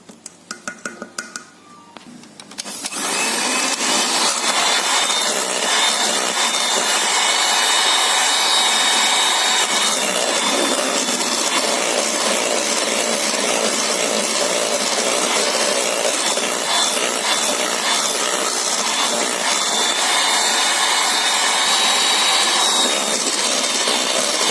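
An electric hand mixer whirs into sponge cake batter after a brief quiet moment, then keeps a loud, steady, high buzzing drone with faint clinks against the bowl throughout.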